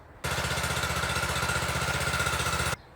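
A SEIMA WM400A mini garden cultivator's small engine runs steadily after starting, a loud, close, even puttering drone that begins abruptly and cuts off sharply about two and a half seconds later.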